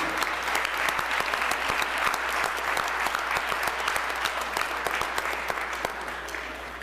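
A legislative chamber audience gives steady, sustained applause for a middle school team and its coaches, with dense clapping throughout.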